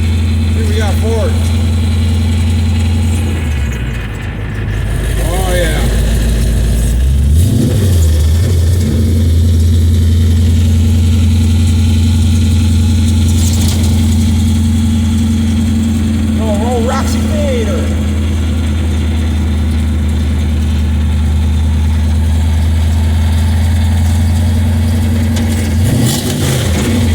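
A 1929 big-block Model A coupe fitted with a four-speed, driving through the gears with a loud, steady low engine drone that dips and rises on shifts, a voice talking over it.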